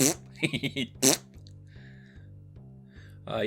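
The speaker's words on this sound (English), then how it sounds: "That fart noise, man" A cartoonish fart sound effect from the Nintendo 64 game South Park 64, several short bursts near the start over a steady low game-menu tone, then quieter electronic blips.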